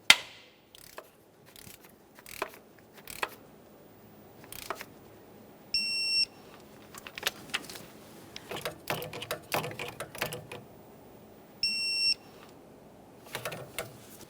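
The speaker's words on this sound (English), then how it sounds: "With it snug, we'll torque it to 32 foot-pounds and then do the same to the lower mounting bolt" Torque wrench tightening a belt tensioner bolt on a 2011-2020 Toyota Sienna: quiet ratcheting clicks and scrapes come in scattered bursts, and two short electronic beeps sound a few seconds apart, with no talking.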